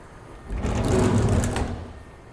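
A CNC lathe cutting a Higbee thread makes a brief whirring, buzzing machining sound that rises, holds for about a second, then fades, with no talk over it.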